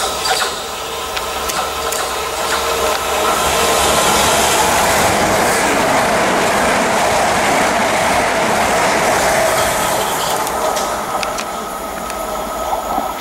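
A train rumbles loudly through Balcombe Station at close range, wheels clattering with a steady rhythmic clack and faint squeals over continuous rolling noise.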